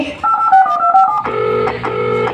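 A short sequence of telephone dialing tones, a few beeps, then repeated ringback tones on the line.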